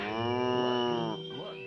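Cow mooing in the video game Pac-Man 2: The New Adventures, one long drawn-out moo, clear and close.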